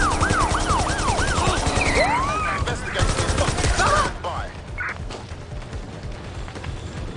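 Rapid bursts of gunfire in the video game Watch Dogs: Legion crackle loudly in a dense fusillade over the first four seconds amid shouting voices, then fade to quieter background action.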